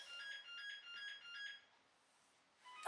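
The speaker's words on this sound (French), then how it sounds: "il y a eu le téléphone qui sonne." A mobile phone rings with a repeating electronic melody of short bright tones for about a second and a half, then stops, leaving a quiet room.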